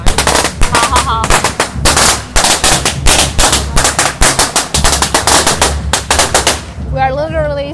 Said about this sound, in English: He is always protecting me by hurting from the firecrackers, but they're literally everywhere.